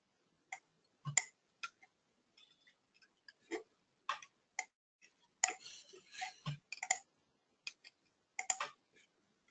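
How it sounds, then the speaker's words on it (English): Sharp, quiet clicks from a computer mouse, scattered singly and in quick pairs against near silence, with a few softer taps between. "I activate the properties by a right click."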